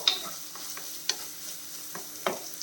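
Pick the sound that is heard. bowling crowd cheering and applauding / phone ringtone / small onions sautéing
small onions sautéing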